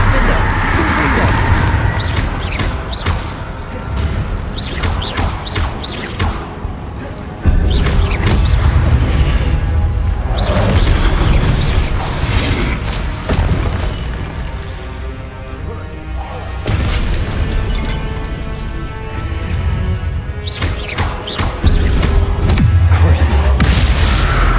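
Explosive Confringo spell blasts in Hogwarts Legacy: loud booming impacts and crashes recur through steady game noise and spell effects, with a voice calling out at times.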